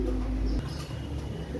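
A Pakistani pigeon pair, male and female together, gives a brief low cooing against a deep steady rumble.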